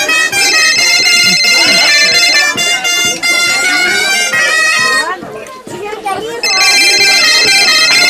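An electronic telephone ring trills loudly in a phone booth, sounding in repeated bursts with a short break between them, while children and adults talk nearby.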